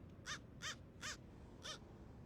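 A crow caws four times in a steady, spaced rhythm, clear but somewhat distant against quiet background noise.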